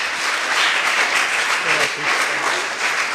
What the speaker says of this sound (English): I want you to put your hands together one more time for Mr. Milton Henry.